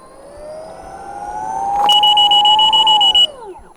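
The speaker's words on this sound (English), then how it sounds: "I want to hear the wheels beeps" Lynx electric unicycle wheel gives a bright, steady electronic beep that holds for over a second, then cuts off and glides downward as a motor whine tails away, loud and close over soft background noise.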